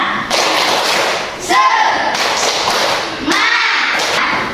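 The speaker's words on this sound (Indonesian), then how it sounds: "Mari kita tepuk semangat dulu." A class performs rhythmic 'tepuk semangat' spirit clapping, bursts of quick, loud, close claps in a patterned rhythm with short pauses, and voices chanting along between claps.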